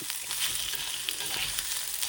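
Chopped onion frying in coconut oil with fenugreek for a prawn rice dish, a continuous, even hiss of sizzling with faint crackles and no voices.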